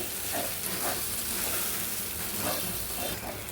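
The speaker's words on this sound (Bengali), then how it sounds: "এটা ডালটা মশলাটা পুরো একসাথে ভালো করে নাড়াচাড়া করবে" Masoor lentil paste is stirred into a frying spice mix for a potol dolma filling, giving a loud, close, steady sizzle with soft periodic scraping strokes.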